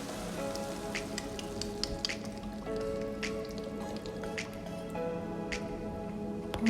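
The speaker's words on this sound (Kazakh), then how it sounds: "Тауық еті піскен кезде үстіне кілегейді құямыз." Cream poured over cooked chicken in a pan for fettuccine with chicken and mushrooms in cream sauce, giving a soft, steady liquid patter with scattered small ticks and drips over a constant low hum.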